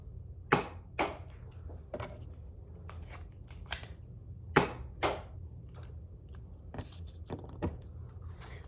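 A Nerf Elite Jolt blaster fires blue Elite foam darts: a handful of sharp, separate snapping shots with short gaps between them, close-up and crisp over a quiet room background.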